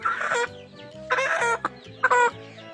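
Several growing young chickens on a farm in spring cluck and squawk nearby in short bursts, with a low murmuring background of birds throughout.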